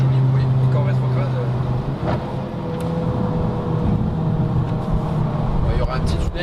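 Exhaust of a Seat Leon FR 1.8 TSI with 195 hp on the road, a steady loud engine drone with shifting pitch as the car downshifts, recorded close on the car over road and wind noise.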